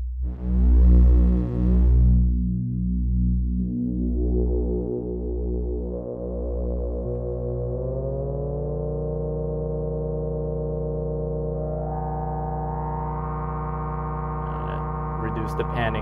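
Two synth oscillators from a Microbrute CV fed separately into the left and right channels of a stereo lowpass filter, a loud buzzing low drone with pulsing then sweeping, rising filtered tones, steady and alone.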